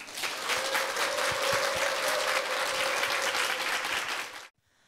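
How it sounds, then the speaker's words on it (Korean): Warm, full audience applause greeting a clarinet ensemble of performers with developmental disabilities on a talk show stage, a steady dense clapping crowd that cuts off abruptly near the end. "네, 큰 박수로 맞이해 주시기 바랍니다."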